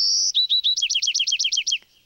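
Recorded American songbird song played back: one long clear whistled note, then a rapid run of about a dozen crisp, evenly spaced two-part notes that stop abruptly, loud and alone.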